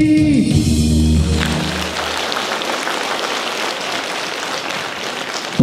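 Audience at a concert in Dondușeni applauding after a song ends, a broad, loud wash of clapping that follows the last sustained musical notes and continues steadily to the end.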